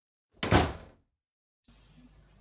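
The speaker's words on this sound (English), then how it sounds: "With a hiss, Bettina walked out of the room" A door swings shut as someone walks out of a room: a single firm thump, close and fairly loud, followed by a quiet room tone with no voices.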